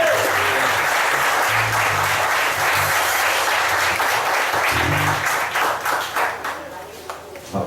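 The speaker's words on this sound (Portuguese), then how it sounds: "Aplauda Jesus." A church congregation claps together in sustained applause, steady and dense for most of the stretch before thinning and turning uneven near the end, with some voices and low sounds mixed in.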